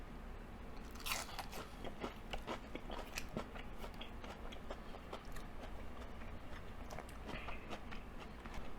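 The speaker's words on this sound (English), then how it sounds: "So that's the first bite of the cod." Crunchy bites and steady chewing of fried cod with tartar sauce, close and fairly quiet, a rhythmic series of crisp crunches with no talk over it.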